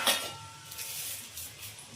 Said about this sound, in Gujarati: હવે દાળિયા પણ તેલમાં આપણે સાંતળી લઈએ